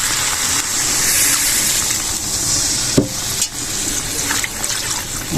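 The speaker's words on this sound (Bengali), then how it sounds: "আমার ভালো করে সবজিটা কিন্তু মশলার সঙ্গে কষানো হয়ে গেছে, আমি এবারে দিয়ে দেবো জল।" Water splashes into a hot pot of spiced taro and potato curry, a loud close sizzle and gush with a sharp pour burst partway through, over constant frying hiss and no talking.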